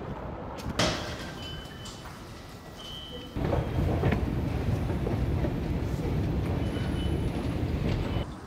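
A train at a New York station rumbles past in a broad, steady roar that swells louder partway through, with no voices.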